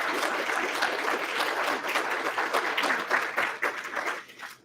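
Sustained applause from a large audience honoring two past presidents at a professional association's 2023 awards ceremony, steady dense clapping throughout that thins slightly near the end.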